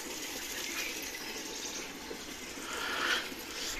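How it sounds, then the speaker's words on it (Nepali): Steady rain falling outdoors on a cold, wet morning, a continuous broadband hiss and patter with no voices, holding an even level throughout and swelling briefly near the end. "पानीको छिटा परिरहेछ"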